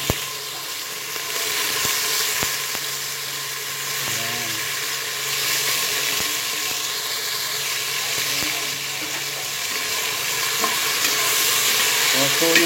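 Chili and shrimp paste sauté in a hot pan with a steady loud sizzle and occasional clinks of stirring, up close, while a person talks over it.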